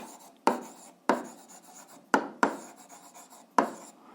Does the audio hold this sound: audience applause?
no